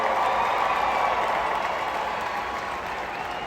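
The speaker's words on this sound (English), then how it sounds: "Now give him a round of applause as he gets up on 4 wheels." A large arena crowd applauds and cheers at a Monster Jam show in Tucson, Arizona, during a two-wheel skills challenge, a dense, roaring wall of clapping that stays loud and steady, easing slightly toward the end.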